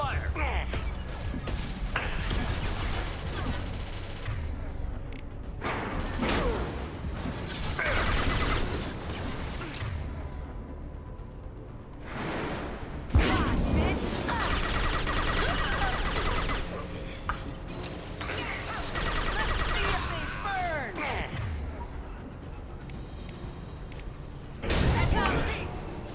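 Heavy bursts of gunfire and crashing impacts in a video game come in repeated loud volleys separated by brief lulls, with voices shouting over the combat.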